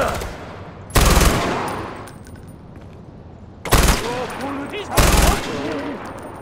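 Gunfire in the Far Cry 4 video game: three loud bursts of shots spaced a couple of seconds apart, each short and sharp, over quieter game ambience.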